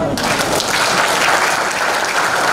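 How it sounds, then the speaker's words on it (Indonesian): Audience applause at a palm oil mill technology conference, a dense, steady wash of clapping that starts almost at once and holds loud and even throughout. "mari kita tepuk tangan bersama-sama"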